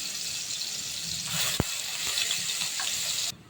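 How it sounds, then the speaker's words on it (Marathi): Onion paste sizzling as it is added to hot oil in a kadhai (wok), a steady close frying hiss with a brief sharp clank partway through, cutting off abruptly near the end. "आता मी ही कांद्याची पेस्ट आपले तेल गरम झालं आहे याच्यामध्ये घालत आहे"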